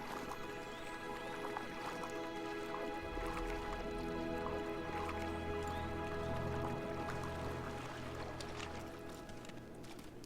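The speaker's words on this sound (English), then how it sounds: "Quick little swim across this river." Water splashing and dripping as a character swims across a river in the fantasy game SwanFleet, a steady wet churning with soft sloshing strokes over ambient game music, continuous and fairly close.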